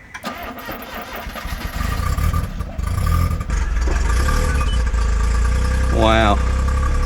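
A mini-truck engine cranks, catches after priming and settles into a steady rumbling idle close by, with a voice speaking over the start.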